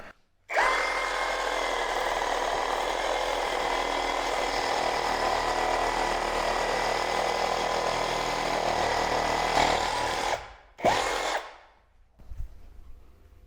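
A cheap Chinese cordless mini saw runs with its stock blade, giving a steady buzzing motor whine for about ten seconds. It stops, restarts in a brief burst, then winds down into near silence.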